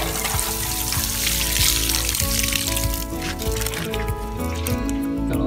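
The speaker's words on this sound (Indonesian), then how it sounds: "Oke, setelah ini kita bisa siram ya." Water splashes and trickles steadily onto freshly planted mini elephant grass, a continuous close pour with a broad hiss running the whole time.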